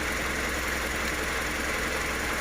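Toyota 2TR engine in a Commuter van running steadily at idle with a valve knocking fault, a continuous close, even mechanical drone with a fine rapid ticking texture throughout.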